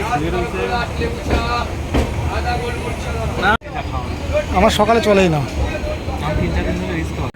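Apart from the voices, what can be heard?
Gyaneshwari Express train departing Kharagpur station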